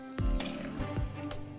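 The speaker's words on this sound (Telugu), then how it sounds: "ఇంకొక గ్లాసున్నర వాటర్ పోసుకుందాము." Water poured from a glass into a pressure cooker holding tomato puree for rasam, a short, close, quiet gurgling fill with a couple of splashy drops, no talking.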